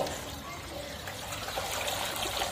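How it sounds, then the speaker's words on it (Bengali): Water mixed with potash and alum is poured to bathe a pigeon, giving a soft, close trickle and splash that runs steadily through the short moment. "পটাশ এবং ফিটকারি দিয়ে পানি দিলাম"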